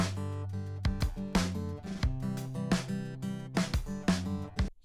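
Acoustic guitar strummed in a steady, slightly slowed pattern in the manner of a song, with regular chord strokes ringing clearly and fairly loud, with no voices over it.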